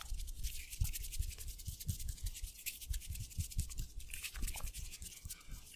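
Soft, close rustling and rubbing of hands, with quick scratchy brushes and light taps in an irregular rhythm, quiet and intimate.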